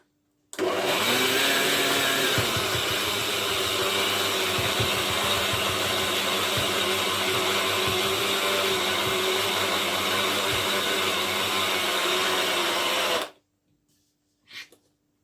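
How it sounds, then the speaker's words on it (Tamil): A mixer grinder whirs loudly and steadily while grinding sesame seeds with sugar, running continuously for about twelve seconds before switching off abruptly, followed by a brief faint knock. "நீங்கள் ஒரு கொஞ்சமாக அடித்து போட்டு இதை நிப்பாட்டி அதை கிளறி விட்டு தான் இதை நீங்கள் அடிக்க வேண்டி இருக்கும்"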